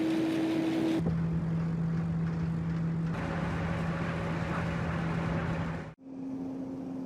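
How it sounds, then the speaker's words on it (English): A garden leaf blower runs steadily while clearing dry leaves, giving a constant motor drone with a tone that shifts pitch a few times and briefly cuts out near the end. "this blower also acts like a cleaning filter for the entire garden."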